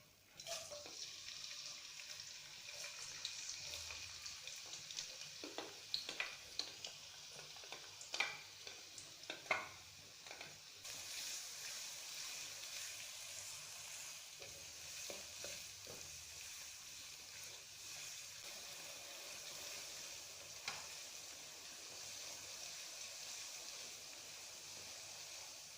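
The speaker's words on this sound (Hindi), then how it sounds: "जैसे ही ऑयल जो है वो थोड़ा सा गर्म हो जाएगा तो हम इसमें जो है वो प्याज डालेंगे।" Sliced onions go into hot oil for daleem and fry with a soft, steady sizzle that holds for the whole stretch, with a few light stirring clicks and taps near the start and no talking.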